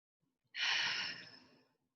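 A single deep breath drawn in and slowly released during a guided morning meditation, soft and close, fading over about a second and a half in an otherwise quiet room.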